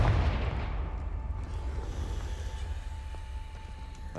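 A Confringo fire spell bursts in Hogwarts Legacy, a loud booming blast at the start that rolls into a long, dense rumble and crackle lasting several seconds, with no talk over it.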